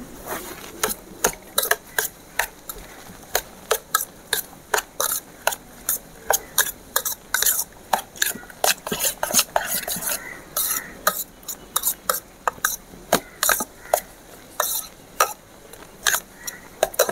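Chopped onion being mixed with salt in a bowl: quick, regular clicking taps and scrapes of a spoon against the bowl repeat in a steady rhythm, close and fairly loud, with no voices.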